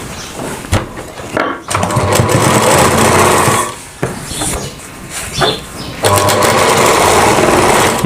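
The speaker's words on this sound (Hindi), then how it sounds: "इसके बाद यहाँ पे सिलाई लगा देनी है।" Sewing machine stitching a Rajputi suit, a steady close whirring run that stops briefly twice before resuming loud and continuous.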